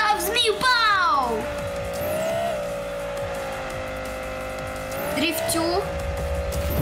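A toy car drifting in Hot Wheels Unleashed, with long sweeping tire squeals rising and falling over a steady engine whine, loud and close, repeating near the start and again near the end, with voices talking over it.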